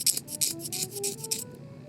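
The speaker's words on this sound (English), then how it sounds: "we're going to scrape some channels, and this is going to relax the reed a bit" Gouge scraping channels into an oboe reed: a series of about seven short, dry rasping strokes in quick rhythm, close and fairly quiet, with a faint tonal hum beneath.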